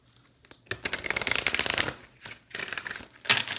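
Tarot cards are riffled and shuffled in quick papery bursts, close up, with brief pauses between runs.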